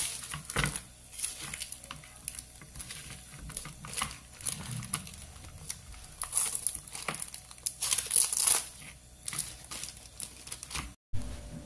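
Plastic wrapping crinkles and rustles in irregular bursts close by, with a few sharper crackles and no talking.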